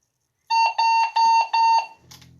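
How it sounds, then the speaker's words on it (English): An alarm clock rings in four loud, even electronic beeps with a steady high tone, close and alone, followed by a brief low buzz. "That's my alarm clock."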